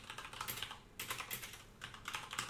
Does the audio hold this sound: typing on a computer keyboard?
yes